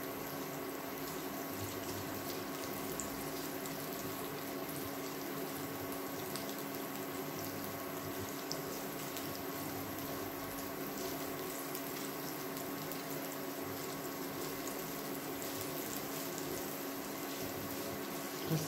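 Carrots with rosemary browning in a pan, giving a steady, even sizzle that runs unbroken and fairly close throughout, with no talking over it.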